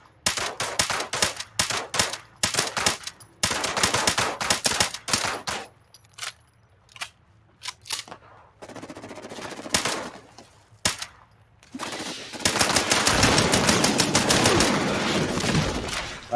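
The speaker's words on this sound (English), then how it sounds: "That thing's just firing rockets at us randomly" Weapons fire from a video game, with rockets launching in rapid bursts: loud, sharp volleys that come in clusters with short gaps, then a longer, denser stretch of continuous firing near the end.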